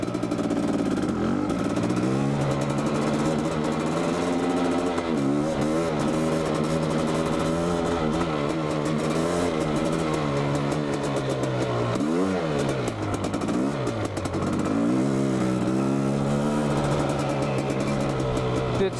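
Quadzilla quad bike engine warming up on grass, idling loud and close with a rough clattering tone, rising and falling through repeated revs.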